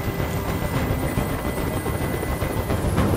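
Steady rotor drone of a helicopter hovering overhead during a hostage standoff on a rooftop in the video game Detroit: Become Human, a constant broadband rumble with a faint pulsing beat, loud and unbroken throughout.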